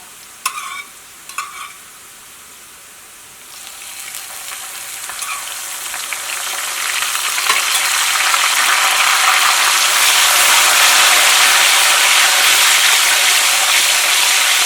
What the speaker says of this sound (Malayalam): ഇനി ഇതിലേക്ക് നമ്മുടെ ഉപ്പും വെള്ളം ഉണ്ടല്ലോ, അത് നമുക്ക് ചേർത്ത് കൊടുക്കാം.